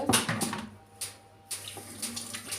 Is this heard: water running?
yes